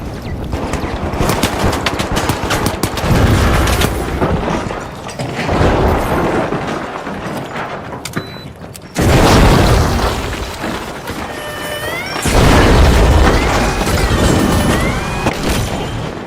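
Gunfire and a grenade blast in the shooter game The Finals: rapid bursts of weapon fire and heavy booms come in loud waves, with a sharp explosion partway through and further intense firing after.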